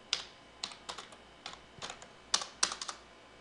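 Commands are being typed on a computer keyboard to configure Frame Relay on a router: soft, close keystrokes in quick uneven bursts with short pauses, quiet and alone with no voices.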